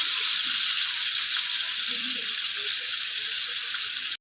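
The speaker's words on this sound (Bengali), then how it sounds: "তো আমার মাছগুলো ভাজা হোক।" Pangas fish pieces fry in hot oil, giving an even, continuous sizzling hiss at moderate level that barely changes throughout.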